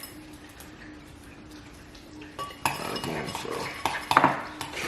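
Granola being stirred and mixed in a bowl, a soft scraping rustle that builds into louder clinks of a spoon against the dish near the end, close by, with a brief word spoken.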